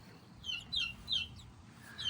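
An Orpington hen gives soft, high chirpy clucks, four or five short calls spaced about every third of a second, faint and alone.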